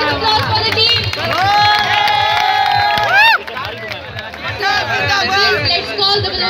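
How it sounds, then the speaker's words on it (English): Crowd at a Sukkur IBA global village programme cheering and applauding a team, with loud sustained shouts and whoops over a dense babble of voices, easing briefly before rising again. "big round of applause for the team"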